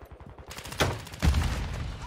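Gunfire in a Call of Duty match, two sharp shots about half a second apart followed by a sustained rattle of weapon noise, moderately loud with no talk over it.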